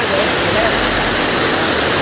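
Water gushing under strong pressure from a well at Namrup, Assam, a loud, steady, close roar of spraying water with no letup.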